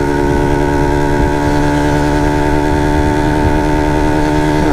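A Yamaha TZM motorcycle engine held at high revs in sixth gear, a loud, close, steady buzzing drone with strong harmonics and no break in the tone.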